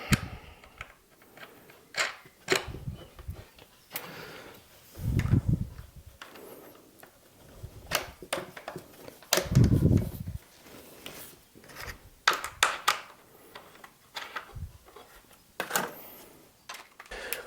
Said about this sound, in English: While I put these wing nuts on